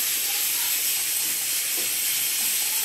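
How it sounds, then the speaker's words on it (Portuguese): Free-range chicken fries in a pan, a steady, dense sizzling hiss that stays constant throughout, close and fairly loud with no voices over it. "Já tá fritando aqui, ó. Franguinho caipira."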